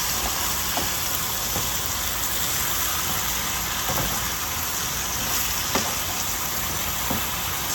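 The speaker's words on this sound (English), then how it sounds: "So the zucchini is rendering down and sauteing." Zucchini sautés in a hot pan with a loud, steady broadband sizzle that carries on without a break, with a few faint taps and clinks now and then.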